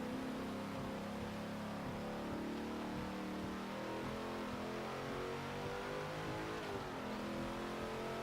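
A stock Hemi V8 in a 2017 Ram 2500 Power Wagon in Forza Motorsport 7 drones steadily under load, a dense continuous engine roar with slight shifts in pitch, loud and close throughout.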